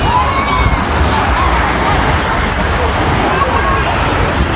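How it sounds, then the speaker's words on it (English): Lake water sloshes and splashes as a hand dips into it on a Sunday evening in Entebbe, Uganda, with steady outdoor ambience and background voices. "I need to touch in the water and see."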